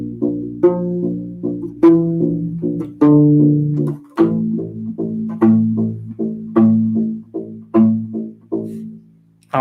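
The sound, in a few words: Westworld theme played on U-Bass, from measure 17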